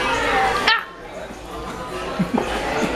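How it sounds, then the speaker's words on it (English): A dog gives a few short yips and whimpers at close range, a sharp yelp early and then two or three softer squeaky cries, amid background voices and household noise. "Y'all, look at my dog, Curry."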